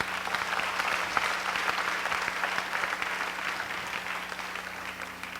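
A church congregation at a Pentecost-week prayer service claps steadily, a dense and sustained round of applause with a faint hum underneath.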